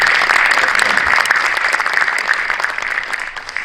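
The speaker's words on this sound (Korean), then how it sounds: "우리 모두를 환영하는 마음으로 박수하도록 하겠습니다" Warm, sustained applause from a church service audience in a memorial hall, a dense crowd clapping close by and tapering slightly toward the end.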